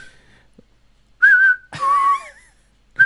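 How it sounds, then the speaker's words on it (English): A person whistles in short bursts: a faint note, then a clear steady tone, a longer wavering passage, and the start of another note. "Others are whistling."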